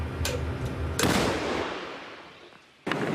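A 155 mm artillery gun fires on the front line in Ukraine's Donetsk region, booming sharply near the start and again near the end, each blast followed by a long rumbling decay.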